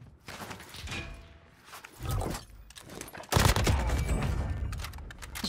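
Bursts of AK rifle fire in Call of Duty Cold War, rapid cracks arriving in volleys, with a dense sustained burst in the second half.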